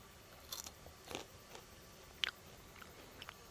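Crunchy fried young fennel root chips, seasoned with salt and pepper, being bitten and chewed up close, giving a few sharp, scattered crisp crunches over a quiet background with no talking.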